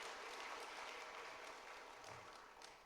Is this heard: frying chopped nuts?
no